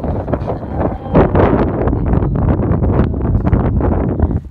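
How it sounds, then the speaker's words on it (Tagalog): Strong gusts of wind in Kuwait buffet the microphone, a loud rumbling roar that swells and fades continuously throughout. "Wow, ang hangin."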